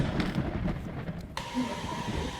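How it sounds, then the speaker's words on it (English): Heavy rain roars steadily as a dense rushing wash on the Camino Primitivo route to Santiago de Compostela, with a low rumble underneath and no voices. "It's raining hard"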